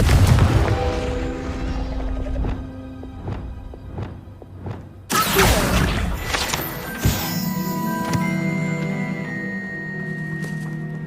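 Confringo blasting curse cast in Hogwarts Legacy: a cluster of dull booms and thuds, then one sharp loud blast partway through, followed by a lingering rumble and a ringing, magical-sounding tail.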